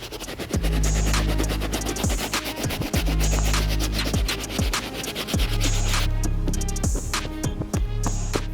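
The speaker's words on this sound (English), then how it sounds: "Now we're gonna move on to the rest of the shoe using a soft bristle brush." A soft bristle brush scrubs the uppers of a Jordan 4 sneaker, giving steady close-up rhythmic scratching strokes that repeat in quick back-and-forth bursts with no talk.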